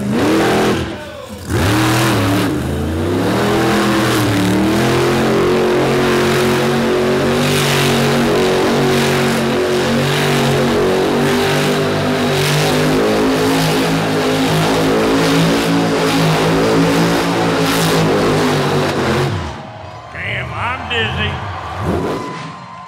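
The Carolina Crusher monster truck engine roars and revs hard and continuously at close range through a donut run in a motorsports competition, pitch rising and falling, before cutting off to quieter crowd and arena noise.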